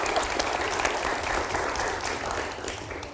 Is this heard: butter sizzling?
no